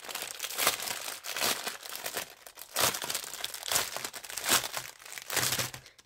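Small plastic bags of diamond painting stones are rustled and crinkled up close in continuous, uneven bursts with no voices.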